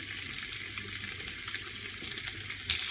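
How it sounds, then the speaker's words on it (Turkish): Chicken sizzles and crackles steadily in hot oil in a pan, a continuous bright hiss with small pops, close by and without talk. "tavuklarımızı kızartıyoruz."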